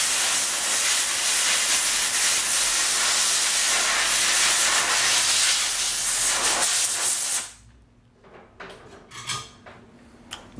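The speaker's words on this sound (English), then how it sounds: "This is the only reason why I use the air compressor." An air compressor nozzle blows air during an oil change on a 2016 KTM 350 EXC-F. A loud, steady hiss runs for about seven seconds, then cuts off, leaving faint clatter.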